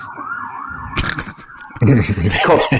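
A police siren passing outside, its wailing tone rising and falling at moderate distance beneath and between bursts of conversation from people talking indoors.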